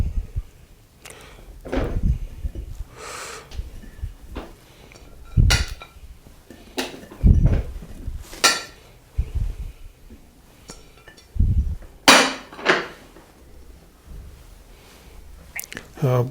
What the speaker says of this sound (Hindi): अब इसके ऊपर हम गाजरें और ये जो शलजम है ये डालेंगे।